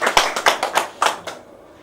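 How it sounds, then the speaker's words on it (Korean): A church congregation claps to welcome a couple who have just had a baby, giving a short burst of about half a dozen loud, close handclaps that fade out quickly. "우리 박수 한번 합시다."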